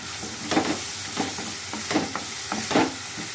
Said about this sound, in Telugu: ఆనియన్స్ బాగా వేగిపోయినాయి కదా ఫ్రెండ్స్. ఈ స్టేజీలో ఉన్నప్పుడు ఒక 2 స్పూన్లు అల్లం వెల్లుల్లి పేస్ట్